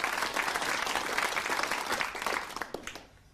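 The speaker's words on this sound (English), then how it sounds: "Applause for our special guest, Roy Castle." Studio audience applause for a special guest on a 1989 television game show, a dense sustained wash of clapping that thins out and fades over the final second.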